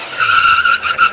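A pickup truck does a short burnout, its tires giving a loud, steady, high skidding squeal that wavers and pulses over about a second, close by with a low engine note beneath.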